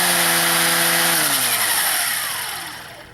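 A Ryobi 18-volt brushless string trimmer runs on its low setting with a loud, close, steady whine. The motor then spins down and the pitch slides lower while the noise fades out, and no one speaks.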